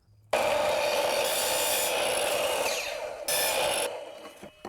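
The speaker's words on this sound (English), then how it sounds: "switch this to a 45-degree angle and just cut off the corners to give it some beveled corners" Angled cuts trim the corners off a wooden base at 45 degrees: a loud, close, continuous rasping cut runs for about three seconds, briefly surges, then tapers off.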